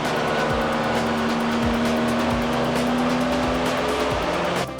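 A VW 300 Tdi engine with a VGT turbo, running with a stuck engaged fan: a steady, dense mechanical drone with a constant whine throughout, close and loud, cutting off near the end.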